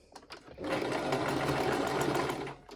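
A sewing machine runs a steady, close-up burst of stitching through pleated paper for about two seconds, with a few faint clicks of handling before and after.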